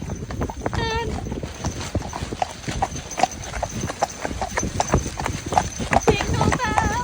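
A horse's hooves clip-clop steadily on a road during a hack in the High Peak, an even rhythmic beat heard close under continuous conversation between riders.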